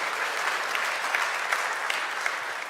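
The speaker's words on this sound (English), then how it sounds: "big round of applause for you, all of you" Conference attendees at a tech event in Berlin give a round of applause: thick, continuous clapping with occasional louder claps popping through, no voices over it.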